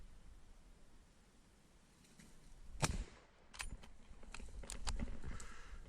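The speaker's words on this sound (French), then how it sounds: "je tire une seule balle" One sharp rifle shot is fired at a large wild boar during a driven hunt. It cracks out once against a faint outdoor background, followed by quiet rustling and clicks.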